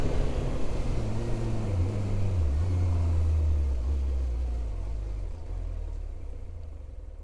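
Kawasaki motorcycle coasting at about 30 mph with the kill switch cut: a steady low drone of rolling and wind noise with a slowly falling tone, close and continuous, no speech.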